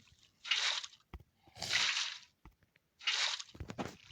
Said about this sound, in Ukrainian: Я зараз цей бісячий сніг водою поламаю.